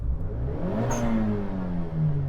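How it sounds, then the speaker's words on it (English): A small three-cylinder turbocharged car revs up, its engine pitch rising and falling through a brief, loud sweep with a short high whoosh, heard close and alone. "So let's rev up these little engines, these little 3-pot turbos. Oh, yeah, loving that blow-off valve."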